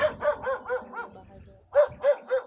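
Dog barks in two bursts near a house by the road below, four quick barks, a pause, then three more, fairly close and loud with no talk over them.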